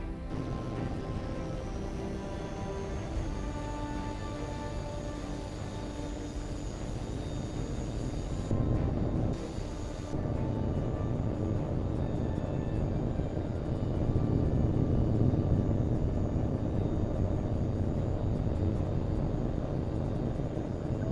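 A jet fighter in Tom Clancy's H.A.W.X 2 spools up and takes off, a continuous loud engine roar and rumble that swells steadily with a brief dip midway.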